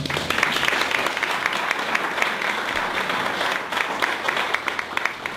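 Audience applause after a marketing talk, a steady, full round of clapping from a roomful of listeners, sustained without pause at a fairly even level.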